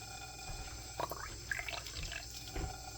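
Water trickles and drips into an empty 7mm Rem Mag Norma brass rifle case, a few close, light splashes and drips over quiet background hum.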